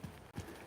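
Donkey hooves clip-clopping on gravel during an outdoor Ranger competition event, two heavy hoof strikes landing close by about a third of a second apart, with no talk over them.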